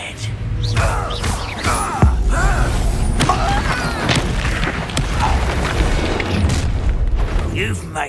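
Booming blasts of the Confringo fire spell in Hogwarts Legacy, loud repeated explosions and rumbling combat effects under a player's shouting voice.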